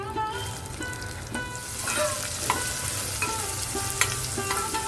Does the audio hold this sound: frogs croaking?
no